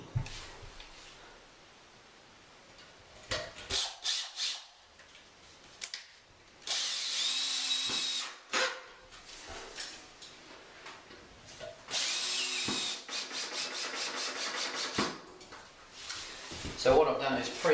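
A power drill drives screws through pre-drilled holes into a shower pan, heard as several loud bursts of whirring, some short and some long, with pauses and handling clatter between them.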